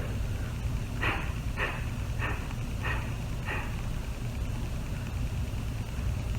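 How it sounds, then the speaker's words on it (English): Five sharp, forceful nasal exhales of Breath of Fire yoga breathing in quick succession over a steady low background hum, which continues alone afterward. "it's a very strong and sharp exhale"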